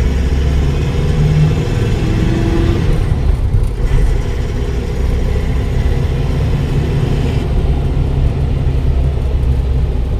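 A Force Traveller 3700 van engine rumbles steadily as it drives on tarmac, with a continuous low drone and occasional shifts in pitch.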